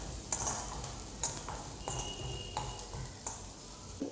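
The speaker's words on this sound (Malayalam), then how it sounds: "അതും കൂടി ചേർത്ത് നന്നായി ഒന്ന് മിക്സ് ചെയ്ത് നമുക്ക് തേങ്ങ വറുത്തതും ചിക്കൻ പൊരിച്ചെടുത്തതും ചേർത്ത് മിക്സ് ചെയ്തെടുക്കാം." A spoon stirs fried chicken and roasted grated coconut together in a pan while cooking chicken thoran, giving repeated scraping strokes and several sharp clinks against the pan over a low sizzle, close and fairly quiet, with no talking.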